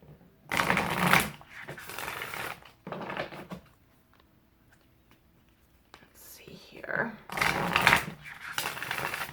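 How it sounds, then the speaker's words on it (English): A Moonology oracle card deck is shuffled by hand in several loud, riffling bursts of a second or two each. Quiet gaps separate the bursts, and soft whispering is heard close by. "I love the way this deck shuffles."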